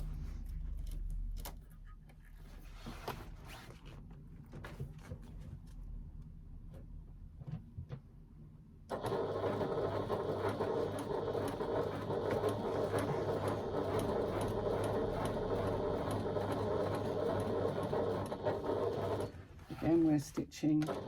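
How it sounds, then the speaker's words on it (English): A sewing machine runs steadily stitching bag side seams at a 3/8 inch seam allowance, a continuous close whirr for about ten seconds after quieter handling noises and a brief voice. "Again, we're stitching at a 3/8 of an inch seam allowance."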